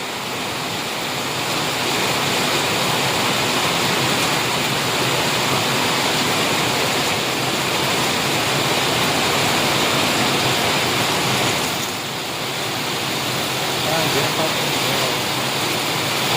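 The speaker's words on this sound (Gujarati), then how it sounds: "એવો વરસાદ પડે છે જો" Heavy downpour in a Gujarati village, a dense, loud, unbroken roar of rain with water running through the lanes, close and steady with only a brief dip in intensity.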